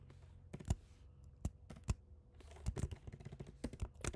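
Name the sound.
typing on a computer keyboard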